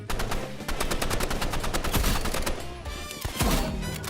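Rapid gunfire in an online shooter game, dense bursts of loud sharp shots firing in quick succession, with a few heavier impacts, close and continuous throughout with no talk.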